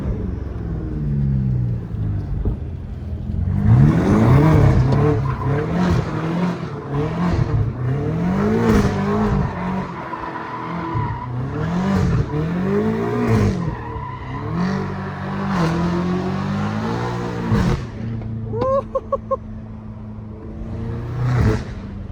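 A powerful catless BMW M5 Competition engine revs and roars repeatedly, rising and falling in pitch with brief tire squeals, loud and close throughout.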